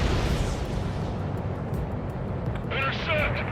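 Anti-aircraft fire pounding radar vehicles in Ace Combat 7, a dense continuous rumble of bursts and explosions with brief higher crackles near the end, heavy and sustained.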